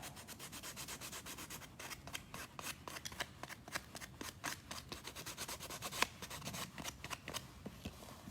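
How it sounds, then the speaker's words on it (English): Sanding down carved WoodUbend decorative moulding: a steady run of quick, rhythmic abrasive rubbing strokes, close and fairly quiet, continuing throughout with no talking. "then obviously I can come back in and sand that down"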